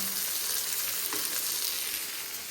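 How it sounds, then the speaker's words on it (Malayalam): Fish fries in a hot pan with a steady, dense sizzle and crackle, close and even throughout, with no voices. "എങ്ങനെ മീൻ പൊരിക്കാമെന്നറിയോ"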